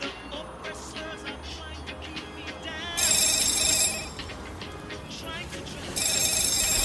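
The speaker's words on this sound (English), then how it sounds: "Phone." An electronic telephone rings in two loud bursts about three seconds apart, cutting through street noise and background chatter in a police station.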